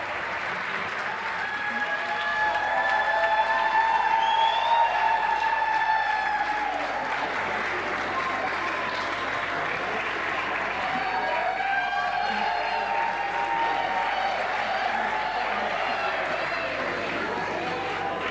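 Audience at a women in science awards ceremony applauding the winners, a long, even round of clapping that swells after a couple of seconds and carries on steadily, with some cheering and faint voices underneath.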